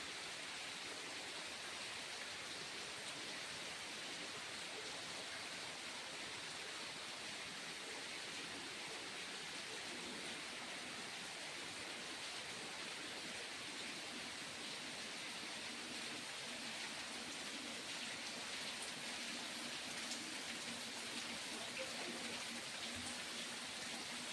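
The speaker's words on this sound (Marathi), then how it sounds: "गावी जोरात पाऊस चालू आहे" Heavy rain pours down on a village in Konkan, a dense unbroken hiss that stays steady and even throughout with no voices.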